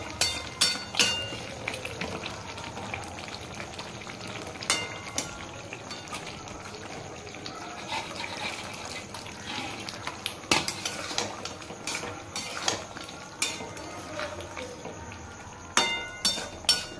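Papad is stirred into a spice masala in a pan, with frequent sharp clinks of a utensil against the metal pan over a faint sizzle. The sounds are quiet, irregular and close, with no talk.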